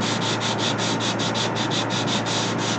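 A kiln shelf scrubbed by hand, loud close rhythmic rasping strokes in a fast back-and-forth pattern of about five strokes per second, continuous and alone without talk.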